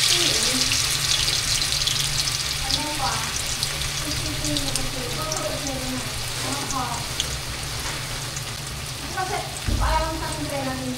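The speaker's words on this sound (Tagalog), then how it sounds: "Prito time. May mantika na po tayo mainit." Food sizzles and crackles steadily in hot cooking oil, a close, constant hiss with scattered pops, while voices talk over it now and then.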